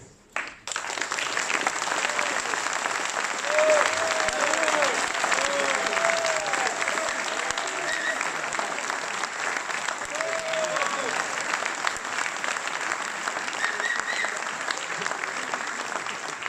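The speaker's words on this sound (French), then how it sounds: "je vous demande par vos applaudissements de faire le plus enthousiaste des accueils" A large audience at a political rally in Nantes breaks into sustained, enthusiastic applause, dense clapping that holds steady and loud throughout, with faint voices and cheers mixed in.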